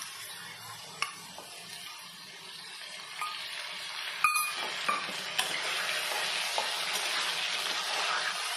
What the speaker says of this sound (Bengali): আলুটা লাল লাল ভাজা হয়ে এসেছে, এবার আমি চিংড়ি মাছটা দিয়ে দেবো